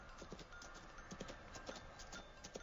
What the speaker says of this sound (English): It's a white horse.